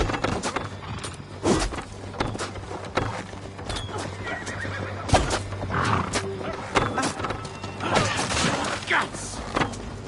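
Horses neigh and whinny with clip-clopping hooves during a raid in the video game Assassin's Creed Valhalla, mixed with battle noise and shouting voices.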